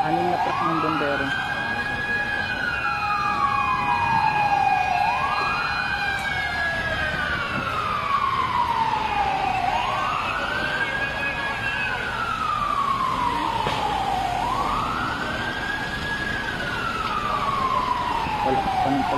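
Wailing fire truck sirens rise and fall in slow repeating sweeps, several overlapping, loud and steady over background traffic rumble in Bonifacio Global City, Philippines.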